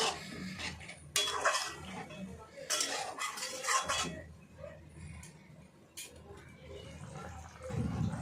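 A spoon stirs washed mung beans in a metal pot, with scraping and clinking knocks at irregular intervals while a person talks over it.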